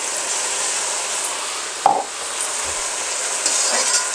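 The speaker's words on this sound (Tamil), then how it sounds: "இஞ்சி பூண்டு வெங்காயம் பச்சை மிளகாய் பேஸ்ட்டு நல்லா வதக்கிக்கலாம்." A ginger, garlic, onion and green chilli paste sautés in a pan for chicken biryani, a steady close sizzle broken by one sharp clack of a spoon against the vessel midway.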